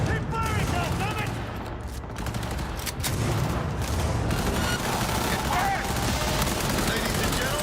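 Dense gunfire from a firefight in Cyberpunk 2077, continuous bursts and booms filling the whole stretch, with shouted voices mixed in.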